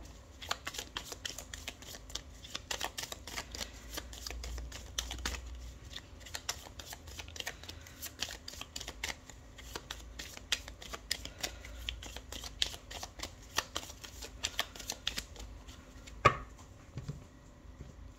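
Tarot cards shuffled and drawn for a weekly reading, producing a steady run of close, crisp riffling and flicking taps with brief pauses, one sharper snap near the end, with no talking.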